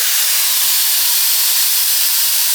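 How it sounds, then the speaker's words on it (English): A Shark FlexFusion wet-to-dry straightener blows air in a loud, steady, broadband whoosh held close and unbroken throughout, with no voices. "I'm gonna turn on Shark now and then straighten and smooth this side."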